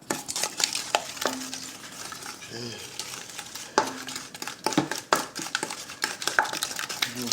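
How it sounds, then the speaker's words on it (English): A wooden spoon stirs chocolate chip cookie dough in a bowl, giving close, loud, irregular scraping and thudding strokes with occasional knocks against the bowl and no talk. "Here's little wooden spatula, wooden spoon. We'll mix it up good."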